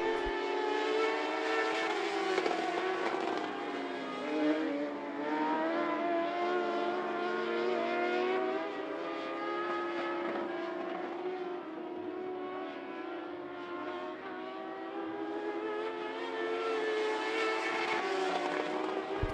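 Modified race cars scream around the I-75 Raceway oval in a sustained, loud chorus of high-revving engines, pitch rising and falling as the pack passes; no talking.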